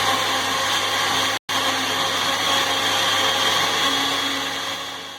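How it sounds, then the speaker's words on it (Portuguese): A blender whirs loudly and steadily as it mixes liquid ingredients, yeast and sugar for homemade bread dough, with one brief cutout before the drone carries on. "Agora a gente vai bater tudo no liquidificador."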